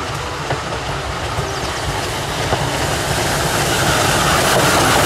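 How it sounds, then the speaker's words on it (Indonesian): A Thomas toy-style train runs steadily and loudly with a continuous rolling rumble and faint clickety-clack of wheels on rails, close and alone without talk. "Kereta Thomas."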